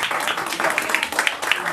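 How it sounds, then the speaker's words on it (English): An audience at a US Presidential Volunteer Award event gives a burst of dense, lively applause, many hands clapping at once close by, with voices mixed in. "Can we clap again for him, please?"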